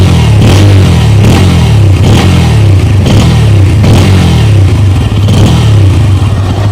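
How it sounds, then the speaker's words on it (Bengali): A 2024 Bajaj Pulsar N160 motorcycle revs its exhaust up close, a loud, steady engine drone with repeated throttle blips in an even rhythm. "এরপর এক্সস্টের সাউন্ডটা যদি একটু শুনে আপনাদেরকে"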